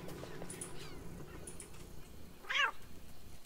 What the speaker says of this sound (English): there's a winged cat up here